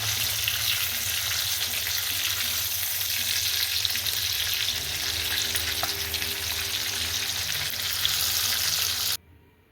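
Kaduva fish (barramundi) pieces shallow-frying in hot oil give off a steady, loud, dense sizzle that holds for about nine seconds and then cuts off abruptly, with no talking.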